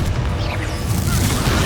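A Depulso spell cast in Hogwarts Legacy, a dense, sustained rumbling blast that holds steady at full strength for under two seconds amid busy game noise.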